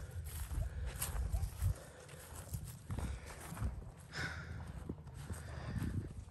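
A horse moves along with a clip-clop of hooves, a loose thudding rhythm at close range under rustling and wind-like noise, with no clear voices.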